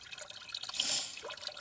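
Water drains from a Kmart 12 V portable foldable washing machine, a soft, close trickle and splash that swells briefly in the middle, faint and without talk.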